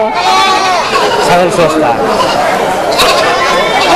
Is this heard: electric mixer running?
no